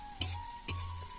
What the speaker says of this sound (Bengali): গাজরটা দেওয়া হয়ে গেল, এরপরে এটাকে একটু ভেজে নেবে।